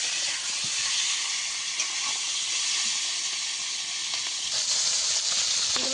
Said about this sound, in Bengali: মাছগুলো আমি ভালো করে উল্টে পাল্টে একটু ভেজে নেব।